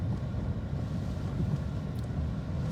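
Strong typhoon wind (Typhoon Tino) in Kalibo, Aklan, a loud, steady roaring rush buffeting the microphone throughout, with no speech.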